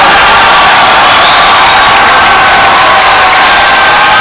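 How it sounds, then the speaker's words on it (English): A volleyball match crowd in a men's college game against UC Santa Barbara roars steadily with cheering and scattered shouts, a loud continuous wash of voices throughout. "The crowd is getting more into it"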